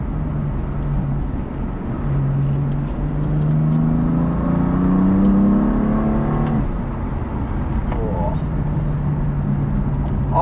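BMW M4 F82 in M mode pulling hard after a downshift, engine note steadily rising and swelling in pitch for several seconds, heard from inside the cabin with a voice talking over it.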